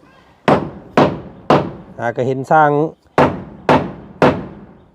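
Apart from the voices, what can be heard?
hammering nails into a traditional wooden house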